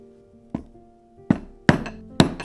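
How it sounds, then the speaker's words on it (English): Hammer blows punching holes through a leather belt: an isolated light tap followed by three sharp, solid strikes spaced under a second apart, close and alone. "marking each hole just with a light tap, and then going through and hammering them all the way through"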